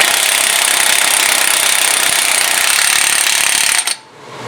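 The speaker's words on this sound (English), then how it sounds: "If you're using a power tool, you'll hear it when it seats." A power tool rattles hard as it tightens the front hub bearing nut on a Cadillac DTS, a loud, continuous buzzing hammer for nearly four seconds that stops suddenly.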